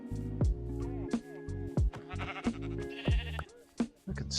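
Minecraft sheep bleat again and again in the video game, short nasal calls in quick succession with brief gaps, a small flock close by and clearly audible.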